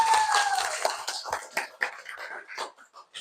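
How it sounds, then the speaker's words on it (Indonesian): A class of schoolchildren applauding their lesson, scattered uneven claps at close range, opening with a brief high whistle-like tone and thinning out toward the end. "Oke, tepuk tangan untuk kita semua."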